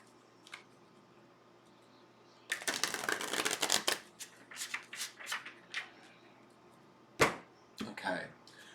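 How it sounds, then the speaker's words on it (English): Tarot cards shuffled by hand in a series of quick riffling bursts, with a dense flurry early on and shorter crisp shuffles afterward, close and fairly quiet with soft background hum. "I'm just needing to shuffle the cards till I feel that the answer is ready."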